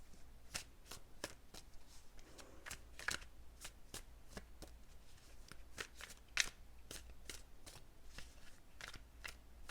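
A deck of tarot cards is shuffled by hand in crisp, rapid riffles and taps, roughly two per second in a steady rhythm, close and quiet with no voice.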